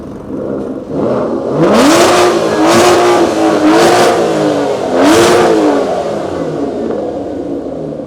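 A V12 supercar engine at a car show revs repeatedly in loud, close bursts, its pitch climbing and dipping in a wavering rhythm over a continuous idle.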